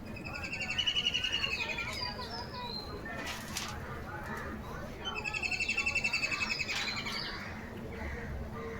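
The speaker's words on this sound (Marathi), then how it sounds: "हा खंड्याचा आवाज आहे." A kingfisher calls from a tree during evening birdwatching, giving two bouts of rapid, ringing, trilled notes separated by a pause, fairly clear over soft background noise.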